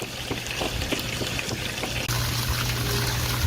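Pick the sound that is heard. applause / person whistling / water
water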